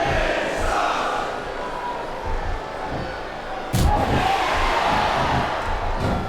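A large arena crowd reacts during a wrestling match in SmackDown vs Raw 2007, a steady dense roar with a sharp surge partway through, loud and continuous.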